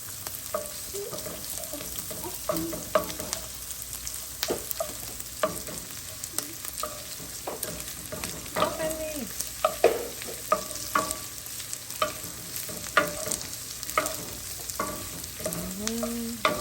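Onions and garlic sizzle in a pot for a one-pot tortellini and Italian sausage dinner, with a steady fry under repeated scraping stirs close by, no voices.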